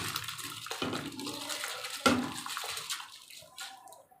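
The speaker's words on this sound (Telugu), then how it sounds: "ఇప్పుడు రైస్ వేసేసుకుంటాను ఇందులో" Rice poured into a pot of boiling water for Hyderabadi dum biryani makes faint splashing and sloshing at first. A sharper splash follows midway, then softer bubbling trails off.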